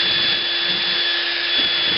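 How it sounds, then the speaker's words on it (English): A drill spins a wire brush lightly over metal foil, giving a steady, close whir with a constant high whine and soft scraping throughout. "I have a drill with a wire brush on it"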